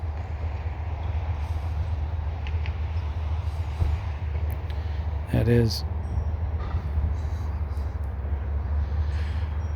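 A big heavy truck drives past a garden, making a steady, deep, loud rumble that fills the scene, while a person speaks briefly over it.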